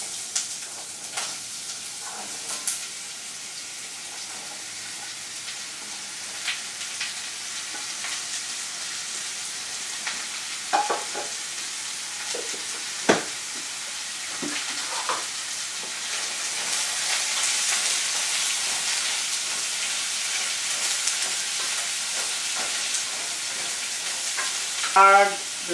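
Red chilies and beetroot fry in a pan for Easy Rasam, giving a steady soft sizzle with occasional sharp crackles and stirring scrapes. The sizzle swells louder toward the end.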